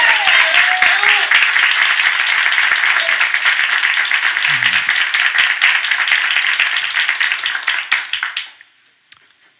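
A church congregation applauds during a Sunday morning worship service, steady dense clapping filling the room for about eight seconds, then quickly dying away, with a brief voice near the start.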